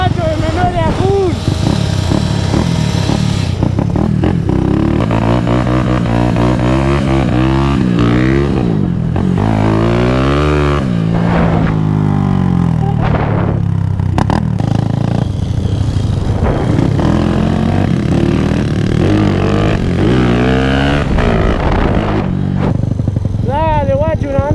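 A Honda CG motorcycle fitted with a swapped engine revs hard up close, its pitch climbing and falling in repeated throttle sweeps, loud and steady, with voices talking over it.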